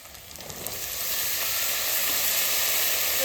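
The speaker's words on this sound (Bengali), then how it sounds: "রসুনও কষা শুরু করে দিয়েছি এদিকে পেঁয়াজ আমি হালকা ভেজে নিয়েছি" Garlic and onion fry in a pan with a continuous, close sizzling hiss that swells slightly louder and then holds steady.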